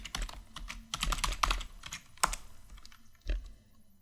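A name typed on a computer keyboard: a short burst of quick, close key taps, then a few spaced single presses with brief pauses.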